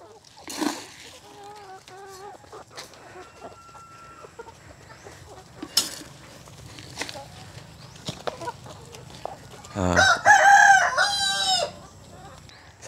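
Chickens, pullets, broilers and layers, cluck softly near and far, with a rooster crowing loudly near the end; a person speaks briefly in between.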